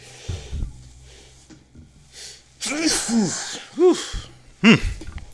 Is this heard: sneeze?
yes